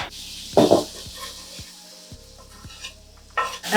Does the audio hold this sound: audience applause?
no